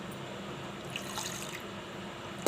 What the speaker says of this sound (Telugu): దీంట్లో ఇప్పుడు కొంచెం వాటర్ పోసుకుంటున్నాను